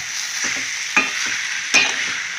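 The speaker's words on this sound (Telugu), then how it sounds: "చక్కగా ఇలాగా ఫ్రై చేసుకోవాలన్నమాట" Radish greens curry frying in an open pan, a steady sizzle with a few sharp scrapes of the spoon as it is stirred, close and alone without talk.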